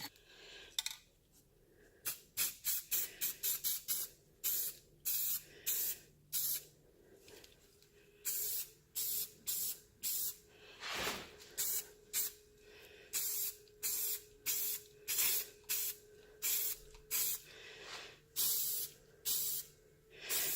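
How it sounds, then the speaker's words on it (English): Short repeated bursts from an aerosol spray paint can coating wooden picture frame pieces, the hissing sprays coming in a steady rhythm of quick pulses, close and clear, with no talking. "and then I'm going to spray paint them."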